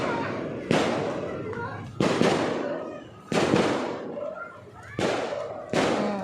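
Fireworks go off outdoors at Star Mall in a city setting, with five sharp booms spaced a second or more apart. Each boom is loud and followed by a long rumbling decay, and people talk in between. A cat seems to meow or wail as well.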